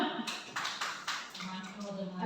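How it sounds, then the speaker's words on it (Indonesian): A group claps together in a classroom session for teachers, a modest burst of clapping with people talking over it. "tepuk tangan kita semua"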